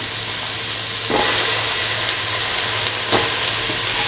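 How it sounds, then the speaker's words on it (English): Chopped bottle gourd pieces dropping into a hot pan of cooked tomatoes, bursting into a steady close sizzle with two brief louder surges of crackling, no voices. "Now putting the bottle gourd piece."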